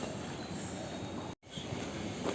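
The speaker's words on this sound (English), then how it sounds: "I'll catch a AC train now" An air-conditioned commuter train runs steadily with broad rumbling rail noise and wheel hiss, loud and close throughout, broken by a brief dropout near the middle before the same rolling noise resumes.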